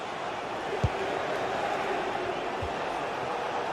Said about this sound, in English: You can sense how annoyed the crowd are.